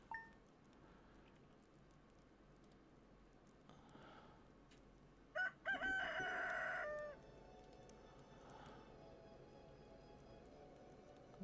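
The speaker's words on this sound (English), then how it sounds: "It's a chicken noise." A chicken in a farming video game gives a short burst of clucking in the middle, fairly faint against a quiet ambient background with soft chimes here and there.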